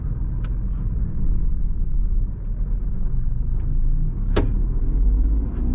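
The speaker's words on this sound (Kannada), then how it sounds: "ಕಾರ್ ಸ್ಟಾರ್ಟ್ ಮಾಡೋಣ. ಸೊ ಇಂಜಿನ್ ಸೌಂಡ್ ಏನು ಜಾಸ್ತಿ ಕ್ಯಾಬಿನ್ ಒಳಗೆ ಬರ್ತಿಲ್ಲ." A TATA Tiago XZ+ hatchback engine runs at idle from inside the cabin, a steady low rumble that stays subdued, with a couple of faint brief clicks.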